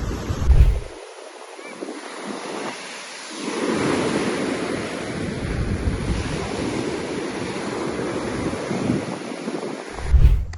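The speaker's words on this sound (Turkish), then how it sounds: "Köpürüp köpürüp taşan insanlar gibi kabına sığmayan bir deniz." Sea waves surge along a rocky coast near Antakya, swelling into a long rushing wash that builds and sustains, with heavy wind buffeting the microphone in short bursts at the start and end.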